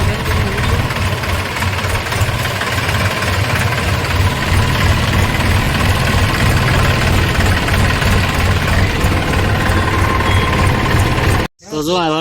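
An Eicher truck engine idles loudly and steadily with a low rumbling knock, cutting off abruptly near the end.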